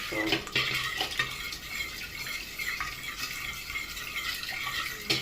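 Bread dough ingredients for Ethiopian bread, including sugar, salt, oil and lukewarm water, stirred together in a bowl, giving steady scraping and clinking of a spoon against the bowl, close and moderately loud, with no talking.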